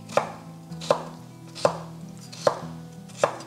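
A knife chops carrot on a cutting board in five evenly spaced, crisp thunks, each clear against a quiet kitchen background.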